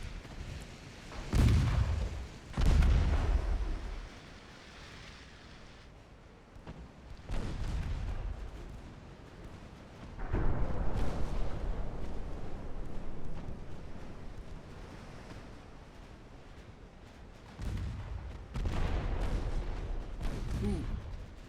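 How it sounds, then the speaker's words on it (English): Naval guns firing in Ultimate Admiral Dreadnoughts, heavy booming salvos arriving in several separate bursts, each followed by rumbling decay, with quieter battle noise and a voice between them. "do like to hear them big guns nail something"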